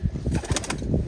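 Domestic pigeon, a young khaki hen, with a short burst of wing flaps and soft cooing, close by, in a brief, busy snippet.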